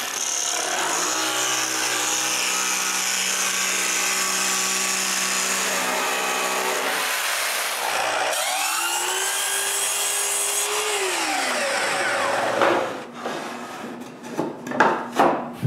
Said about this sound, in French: j'utilise mon patron pour marquer du contreplaqué, puis je le coupe